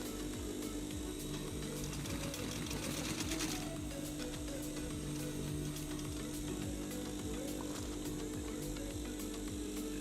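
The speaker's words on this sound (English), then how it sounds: "Now start sewing in one direction to the bottom." A sewing machine stitches a clamshell pouch in one continuous run, a steady mechanical whir with fine rapid ticking over a constant low hum, fairly close and alone with no talk.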